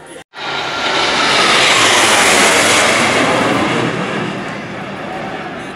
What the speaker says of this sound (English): Everyone is lined up here in front of the castle awaiting the arrival of the Blue Angels.